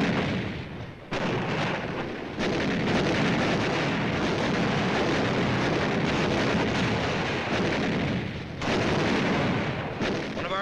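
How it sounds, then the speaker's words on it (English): Night-time artillery duel on Iwo Jima: dense, roaring wartime barrage of gunfire and explosions, loud and continuous with brief dips, no voices. "Artillery duel develops at night."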